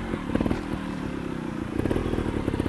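A trial motorcycle rides over a tree trunk on a trail course in Falkenstein, Styria, its engine putting and revving close by with rough, clattering bursts as the bike works over the obstacle.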